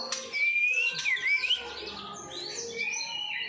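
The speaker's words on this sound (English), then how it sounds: "I've got my finches up here" Pet finches and canaries chirp and sing indoors, with bright whistled trills and scattered tweets layered over one another at moderate volume.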